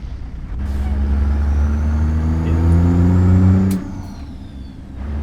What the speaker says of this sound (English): the sound of the engine from the truck kind of drowns you out a bit